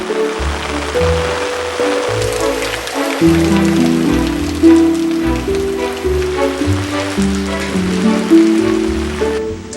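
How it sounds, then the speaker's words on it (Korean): Steady rain falls on an afternoon in the long rainy season, loud and continuous throughout with a constant wash of drops and no voices. "비 내리는 오후"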